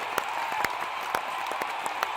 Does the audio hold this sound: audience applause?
yes